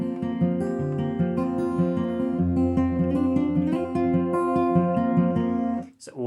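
A steady fingerpicked acoustic guitar passage, with clear, ringing plucked notes in an even rhythm, close and moderately loud, ending with a brief scrape.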